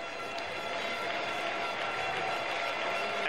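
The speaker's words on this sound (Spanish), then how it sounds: "Bate palmas el público que comienza a animarse." Baseball crowd at a Cuban league game between Sancti Spiritus and Industriales, rhythmic clapping and murmuring spread across the stands, steady and moderately distant.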